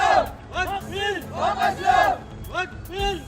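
Crowd of local young men at a peaceful protest against amendments to the Waqf Act in Hyderabad, Telangana, chanting slogans together: loud, rhythmic call-and-response voices rising and falling in unison, with no separate talking.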